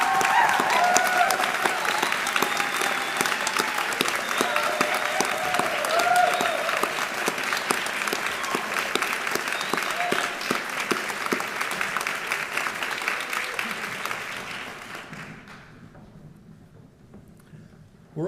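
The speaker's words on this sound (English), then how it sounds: "Can I ask you all to be upstanding and applaud them by way of saying thank you for their love and support." A large graduation-ceremony audience at the Royal Conservatoire of Scotland applauds friends and family, a long dense clapping that holds steady, then thins and fades out in the last few seconds.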